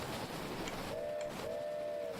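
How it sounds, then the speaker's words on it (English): A train whistle sounds in the video game Dinkum: two sustained, thin tonal toots, the second longer, fairly faint and set under a constant dense rushing noise bed. "And man, do I like the train."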